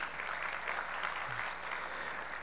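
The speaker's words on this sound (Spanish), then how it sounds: "para quien pido un aplauso" An audience at an innovation conference applauds with steady, fairly distant clapping that holds evenly throughout.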